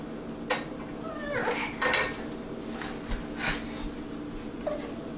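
A young child plays with pots and pans, making scattered metallic clanks and clatters, a couple of them louder clashes among quieter rattles, over a low background hum.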